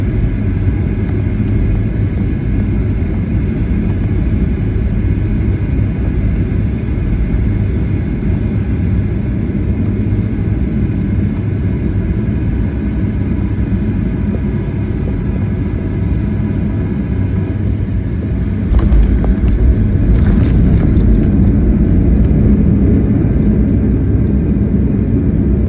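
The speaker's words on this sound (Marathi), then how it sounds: "विमानाचे पायलट साहेब त्यांनी लँडिंग एक नंबर केलं." A passenger airliner landing on a return flight from Dubai, heard as a loud, steady cabin roar of engines and rushing air, with a brief burst of rattling and thumps near the end.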